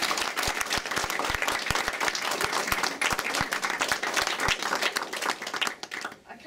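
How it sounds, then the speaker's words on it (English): A room full of people at an art gallery exhibition claps steadily for the artists, a dense, close round of applause that carries on evenly before tailing off at the end. "so a big round of applause to you."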